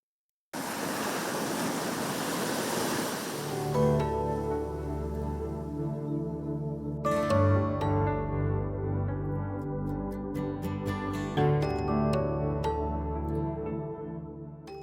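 Sea waves wash onto the beach at Shankhumukham as a loud, steady roar for a few seconds, then music begins and plays over the fading surf.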